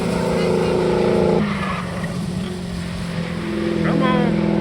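A C6 Corvette on the Lime Rock track, its engine droning loudly under a squealing, skidding slide as it spins, with a voice briefly talking over the roar.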